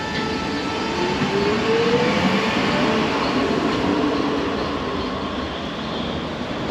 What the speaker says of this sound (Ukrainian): Ось це трамвай.